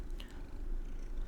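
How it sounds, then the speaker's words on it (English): A roommate's cat purrs close and soft in a quiet room, with a low, steady rumbling texture. "It's my roommate's cat."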